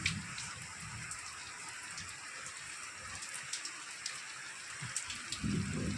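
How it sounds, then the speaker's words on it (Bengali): Heavy rain falls in a steady, fairly faint wash of patter, with scattered sharper drops and drips punctuating the constant hiss, and no one speaking. "আমাদের এখানে প্রচণ্ড চরম বৃষ্টি হচ্ছে।"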